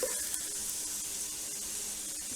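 Garlic sizzles steadily in a hot pan for marinara sauce, a dense, continuous frying hiss heard up close with no talking.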